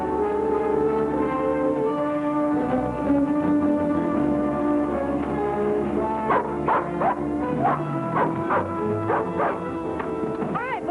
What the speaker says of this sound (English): Hey, that's Bullet barking.